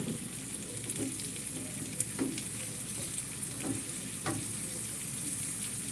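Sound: cheese-stuffed peppers frying in a pan

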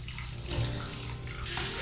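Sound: water filling a container over bulgur wheat

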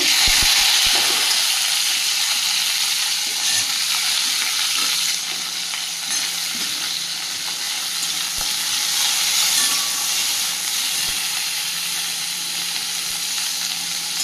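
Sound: okra (bhindi) frying lightly in a hot pan

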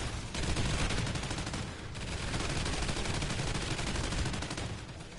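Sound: turret gunfire in the video game Extinction

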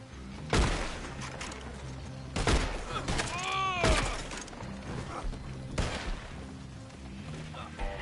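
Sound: gunfire in the video game Red Dead

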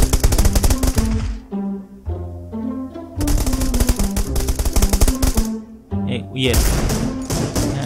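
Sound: gunfire in video game PUBG Lite

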